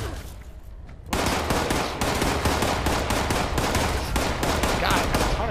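Sustained rapid combat rifle fire in a video game, loud and continuous after a brief quieter lead-in, with bursts running together almost without pause.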